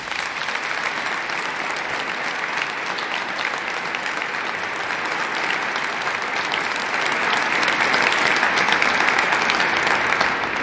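A large audience at a transportation department awards ceremony gives a sustained round of applause for the award recipients, a dense steady clapping that holds and slightly swells.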